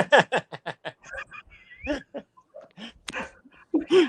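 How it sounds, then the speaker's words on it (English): Small puppy making a string of short yelps, whimpers and squeaky vocal noises, close and fairly loud, coming in quick bursts with brief gaps between them. "Oh, it's a puppy."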